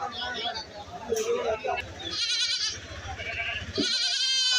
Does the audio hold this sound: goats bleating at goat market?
yes